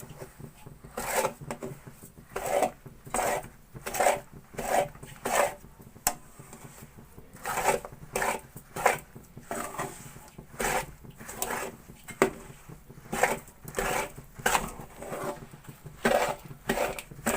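A spoon stirs coarsely chopped almonds and other dry ingredients for flaxseed laddoos in a bowl, giving steady, rhythmic scraping strokes about every half second, close and moderately loud.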